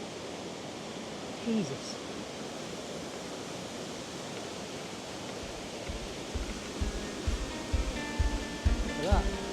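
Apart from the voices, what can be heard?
waterfall in a slate quarry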